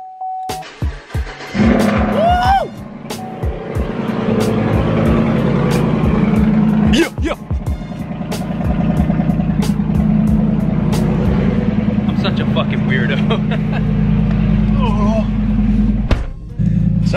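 A lifted High Country pickup truck engine cranks over several times, catches and settles into a loud, steady idle and rev close by, with brief clicks and a voice early on.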